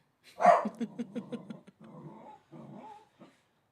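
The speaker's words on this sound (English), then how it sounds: "He's so excited that he's barking." A dog barks excitedly in a quick burst of close yips, then breaks into softer growling whimpers that trail off, with no talking over it.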